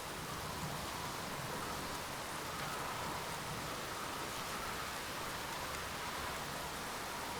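Rain falls steadily outdoors on a windy day, a continuous dense hiss of drops hitting surfaces, unbroken and even throughout with no voices.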